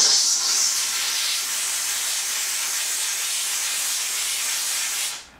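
A professional steam cleaner unit used to kill bed bugs hisses a continuous, loud, close jet of steam for several seconds before cutting off abruptly, with no speech.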